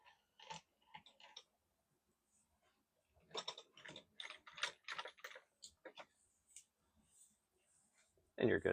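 Clamps on a racquet stringing machine are released after stringing a Solinco Blackout 300G, giving quiet, close mechanical clicks and ratcheting ticks in short bursts, with a brief voice nearby.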